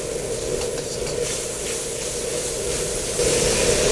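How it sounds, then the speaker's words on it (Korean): Sichuan doubanjiang chili bean paste stir-frying in a hot wok, a steady close sizzle with soft scraping of the spatula, no voices. "요걸 넣어주시고 살짝 볶아서 향을 또 올려줍니다."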